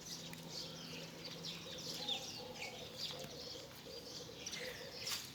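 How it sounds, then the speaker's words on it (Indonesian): Many small birds chirp and tweet together in a dense, continuous chorus of overlapping high calls, fairly near, with a low steady background hum and no talking. "Banyak burung yang kecil-kecil."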